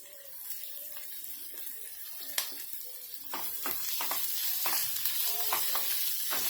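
White onion drops into a pan with garlic and chilli and sizzles, a close crackling fry that builds louder over several seconds with occasional stirring scrapes.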